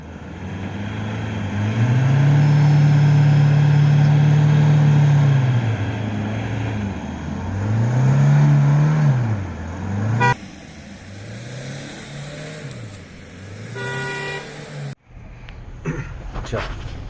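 Mahindra Thar SUV being driven, a loud steady engine drone that rises and falls with revving and gear changes, close and continuous, with no talk.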